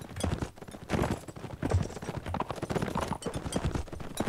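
Horse hooves galloping in the Mount & Blade video game, a dense, rapid clip-clop rhythm at close range with scattered impact sounds, carrying on without a break.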